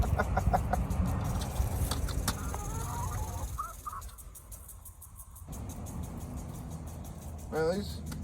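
Backyard chickens cluck and chatter while eating treats, intermittent close calls over rustling, with a person speaking at times.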